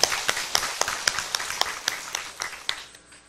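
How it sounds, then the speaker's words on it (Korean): An audience at a Buddhist temple's Sunday dharma service clapping together in a steady rhythm of about a dozen sharp claps, moderately loud at first and fading near the end, with no talking. "내 말에 동의하면 박수 한번 쳐봐."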